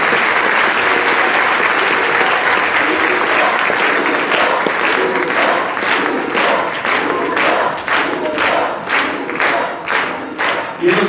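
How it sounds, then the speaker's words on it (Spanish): A live symphonic concert audience bursts into sustained applause, dense clapping with shouts and cheers, gradually thinning into more distinct, rhythmic claps toward the end. "Era un aplauso, por favor, Chucho."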